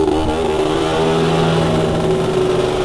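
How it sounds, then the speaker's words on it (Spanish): A Vespino moped's small engine and exhaust drone loudly and steadily at close range while riding, a continuous buzzing note with no voices. "El escape también me da la sensación como que suena ahora más"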